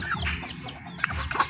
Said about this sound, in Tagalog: Karon guys, nagpakaon ko sa kong mga manok guys.